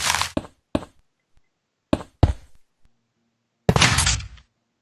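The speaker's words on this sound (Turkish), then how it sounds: "Kapıyı parçaladı." Blocky wooden door being broken in Minecraft: a series of sharp, separate thuds and cracks, some close together and some spaced out, ending in a longer, louder crunching burst.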